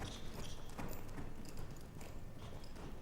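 A young horse's hooves clip-clop at a jog in a training session, a steady two-beat rhythm of soft, fairly close hoofbeats over a constant background, with no talking.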